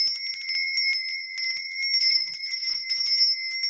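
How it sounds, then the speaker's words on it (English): A handheld bell rung to cleanse the air gives bright, shimmering tones with repeated quick strikes, loud and close, ringing on continuously without pause. "where did I put my bell? I use this to cleanse the air."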